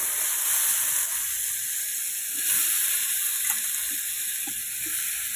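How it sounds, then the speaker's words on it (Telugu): Bottle gourd pieces, salted and squeezed, sizzling in hot oil in a pan: a steady broadband hiss runs throughout with a few faint pops and crackles, no talking. "ఈ పొట్లకాయ ముక్కలు ఈ నూనెలో వేసుకుందాం"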